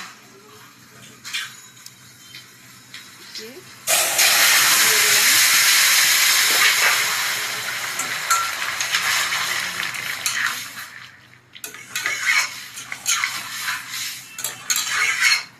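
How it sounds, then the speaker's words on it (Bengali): Bottle gourd with shrimp poured into hot tempering for lau chingri bursts into a loud, steady sizzle that holds for several seconds, fades slightly, then flares again, with light clinks of a utensil against the pan and no talk. "এবার ফোড়নের মধ্যে এটাকে ঢেলে দেব।"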